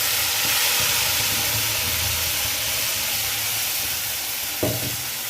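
A spice paste sizzles loudly in a hot pan over roasted cumin, a constant steamy hiss with a brief clatter near the end, and no voices.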